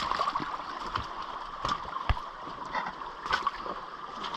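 Water flowing out of the main feeder gully at a gold high-banking site after flooding, a steady close gurgling trickle with a few sharp clicks and knocks over it.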